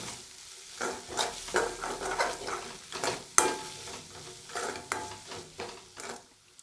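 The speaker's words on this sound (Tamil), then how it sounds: "மிளகாத்தூளையும் சேர்த்து நல்லா மிக்ஸ் பண்ணி விட்டுறேன் அதுவும் எண்ணெயில் நல்லா வதங்கட்டேன்" Chili powder stirred into hot oil in a pan for a spicy ginger chutney, a soft sizzle under rhythmic scraping strokes of a spoon, close and fairly quiet, with one sharp clink partway through.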